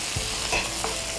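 A large chopped onion added to hot oil with dried red chillies and mustard seeds, giving a brief close sizzle and hiss with a couple of soft stirring knocks.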